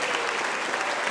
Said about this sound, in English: How about a big round of applause for all the musicians so far?